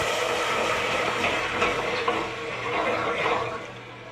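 Liquid goes into a hot pan holding browned pork tenderloin, making a loud, continuous rushing hiss that swells and eases over a few seconds, close up and with no talking.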